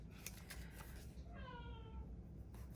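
A black cat named Lucy meows in the background, a drawn-out, wavering cry rising and falling for about a second over a steady low room hum.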